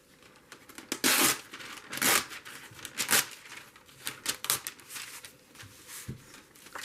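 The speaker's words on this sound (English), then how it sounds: "I'm going to use my plastic wrap top with this little cutter, and it makes the perfect edge" Paper is torn against the small serrated cutter of a plastic wrap box, with several sharp ripping bursts up close, separated by short pauses and light rustling, no talking.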